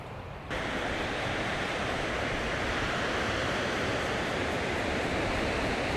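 Steady surf from ocean waves on a beach near a campsite, a broad continuous rushing wash that begins abruptly and stays even and fairly soft throughout, with no voices.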